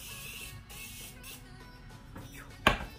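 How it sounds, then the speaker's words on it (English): Morphe setting spray is misted onto a face in one short, sharp hissing burst near the end, following a few seconds of quiet handling noise. "Now I'm gonna be taking the Morphe setting spray once again and spraying my face before we put highlighter on."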